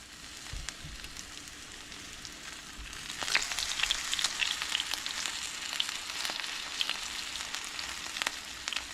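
Breaded pork fries in a pan with a steady, close crackling sizzle that grows denser and louder after a few seconds, punctuated by sharp pops and spits.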